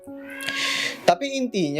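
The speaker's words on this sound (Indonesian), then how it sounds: "ini ada suara kucing gue ngeong-ngeong" A pet cat meows several times indoors, its cries rising and bending in pitch, while a person talks over and between the calls.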